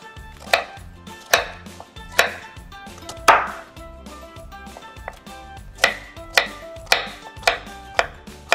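A knife cuts through cucumber on a board in about a dozen sharp, evenly spaced chops, close and clear with quiet gaps between strokes and no voices.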